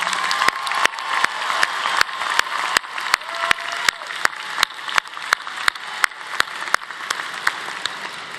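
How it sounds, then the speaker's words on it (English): Graduates applaud their families at a university spring commencement ceremony, broad crowd clapping spread across a large hall, punctuated by an evenly spaced series of sharp clicks, moderately loud and steady. "Graduates, let's give your loved ones a big round of applause."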